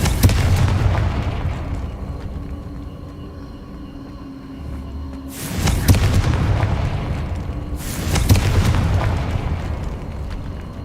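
Confringo spell blasts in Hogwarts Legacy: two loud, booming explosions a few seconds apart, each with a sharp crack and a rumbling decay, over a steady low game ambience.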